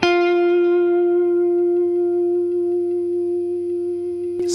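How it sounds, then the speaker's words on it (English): A single sustained electric guitar note rings out cleanly, with reverb stretching its tail, before a brief pluck at the end. "I'm gonna add a little bit of reverb."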